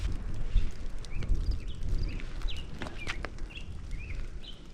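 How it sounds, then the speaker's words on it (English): Birds chirp in short, scattered calls outdoors on a hiking trail, faint and somewhat distant over low wind rumble and soft footsteps. "And the birds, oh, it sounds so good."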